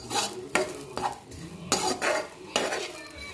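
Chopped onion roasts in a pan for a prawn dish, a spatula scraping and stirring in repeated strokes about once a second over a low, steady sizzle, close and moderately loud with no talking.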